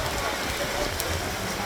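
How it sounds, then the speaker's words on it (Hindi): Heavy rain pours down at the seaside in Mumbai in a dense, steady hiss, loud and continuous, with no distinct voices over it. "बहुत अच्छी बारिश हो रही है"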